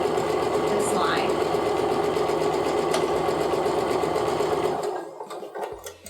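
A sewing machine runs a long quarter-inch quilt seam with a fast, even mechanical whir and rapid needle chatter, close and loud, then stops near the end, with a voice talking over it.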